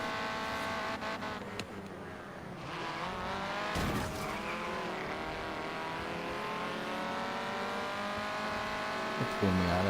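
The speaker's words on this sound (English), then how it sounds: "Yeah, that's pretty good drift. Pretty good asphalt drift." In Forza Horizon 3, a car drifts on asphalt with a continuous engine drone and tire squeal, steady and fairly faint, while voices talk over it.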